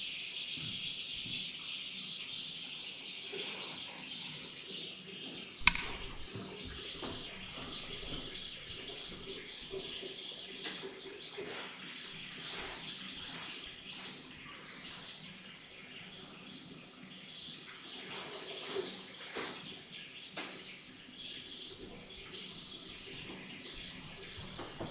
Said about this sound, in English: I'll just turn on hot water.